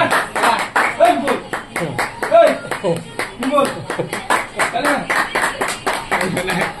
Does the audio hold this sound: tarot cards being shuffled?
no